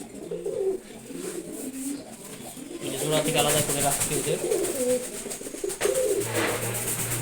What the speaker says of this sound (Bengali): এটা হচ্ছে গিরিবাস কবুতর